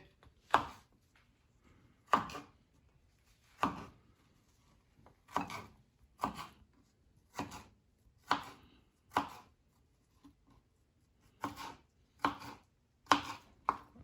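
Knife chopping vegetables into small pieces for a quinoa avocado salad, heard as crisp, close board strikes in irregular bursts of one to three chops separated by short pauses, with no talking.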